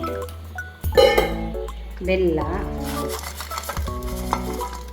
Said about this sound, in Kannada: ತೆಂಗಿನ ಹಾಲು ಹಾಕೋಣ